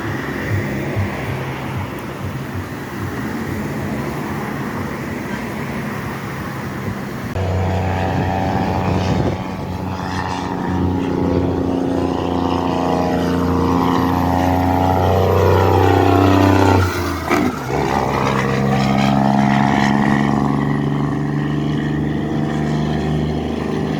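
A truck drives along a Jamaican highway, its engine drone steady and fairly loud, rising in a heavier shifting tone midway as the vehicle pulls on, with no talk.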